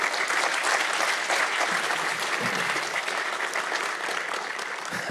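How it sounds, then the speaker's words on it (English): Sustained audience applause at an award ceremony and closing session, steady dense clapping from a large crowd throughout, fairly distant and even in level. "So a big, big, big round of applause for Esther."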